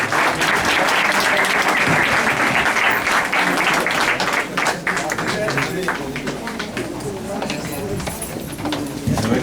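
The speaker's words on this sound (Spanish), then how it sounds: "Van a dar un aplauso al licenciado" Seminar attendees applaud as an award is presented, sustained crowd clapping with some sharper individual claps and voices mixed in, staying loud across the whole stretch.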